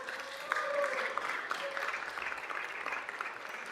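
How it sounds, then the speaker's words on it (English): Audience applause at an Africa Day celebration in LA City Hall, a moderate steady wash of clapping with faint voices and cheers rising through it. "Yes, a round of applause."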